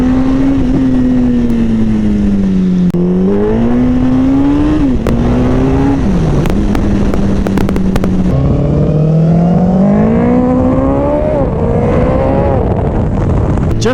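A Suzuki Hayabusa fitted with a Leo Vince slip-on exhaust accelerates hard through the gears, loud and close, its engine note rising in pitch and dropping sharply at each shift in a repeated climbing pattern.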